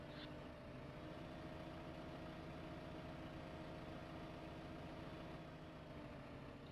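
A New Holland tractor idles in Farming Simulator 15, a steady low engine hum with even harmonic drone that holds constant and fairly quiet throughout, with no voices over it.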